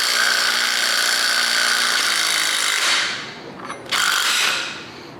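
An electric impact gun with a 1/2 inch drive pulls a pulley off the shaft of a Ford 302 small block engine. It rattles loudly and continuously for about three seconds, cuts out briefly, then gives one more short burst.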